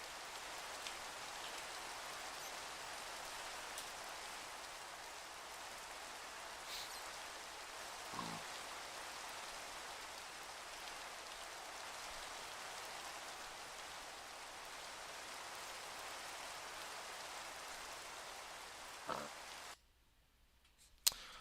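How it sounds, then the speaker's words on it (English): Steady rain hisses evenly for about twenty seconds, with a couple of faint knocks, then cuts out abruptly near the end. "I had to cut off the rain sound."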